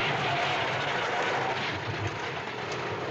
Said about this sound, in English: Or a freight train.